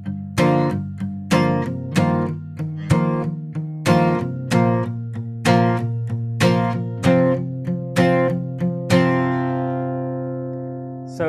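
Acoustic guitar strumming steady eighth notes with accented pops, playing the intro and verse of a song. The rhythmic chords ring out alone and end on a long sustained strum.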